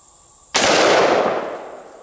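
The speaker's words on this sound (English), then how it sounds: "I'm gonna shoot it one more time." A single loud, close 50 BMG rifle shot fired at a kettlebell, a sudden blast followed by a long rolling echo that fades over a second and a half.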